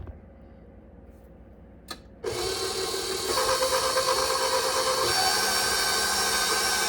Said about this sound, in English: I'm just going to let that cream a little bit. I won't let the mixer run the whole time.